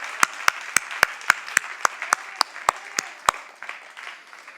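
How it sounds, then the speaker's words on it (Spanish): A church congregation at a worship service claps in unison, about a dozen sharp, evenly spaced claps over a low room murmur, fading out near the end. "esto hay que aplaudirlo para la gloria del Señor"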